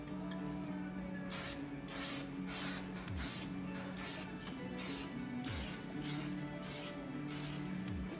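An aerosol can sprays light coats of paint onto Glock 26 pistol parts in repeated short hissing bursts, each lasting about half a second, with a steady mechanical hum underneath, close and fairly quiet.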